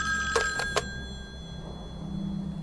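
A telephone bell rings in a few quick bursts late at night during a thunderstorm, then stops, leaving a low steady background hum.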